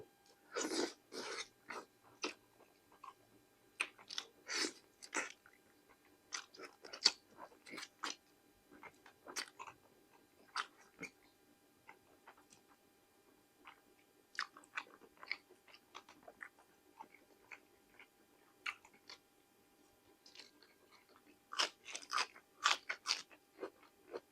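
Close, crisp crunching and chewing of braised pork leg with rice, bursts of wet mastication and bites coming in irregular clusters over a quiet background, with occasional breaths between mouthfuls.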